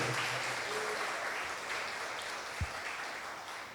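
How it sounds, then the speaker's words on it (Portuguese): A church congregation applauds at a worship rally, a steady wash of clapping that fills the room at moderate distance, with a low thump partway through. "Se você quiser, dê a Jesus um aplauso."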